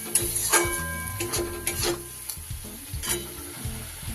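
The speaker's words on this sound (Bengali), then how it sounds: "গ্যাসটা বাড়িয়ে দিয়ে আমি একটু ভালো করে মশলাটা কুক করে নিলাম।" Masala spices sizzle and fry in a pan for an egg do pyaza, with a spoon scraping and stirring in irregular strokes and light clicks against the pan, close and fairly quiet.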